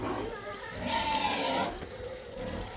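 Strong flow of water on an organic farm lot in Cebu City, Philippines, a close, steady rushing gush that swells briefly in the middle with faint voices underneath.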